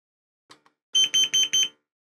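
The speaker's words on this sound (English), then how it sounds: "Please stop beeping." A carbon monoxide alarm beeps four times in a quick, even series, loud and close, after two faint clicks.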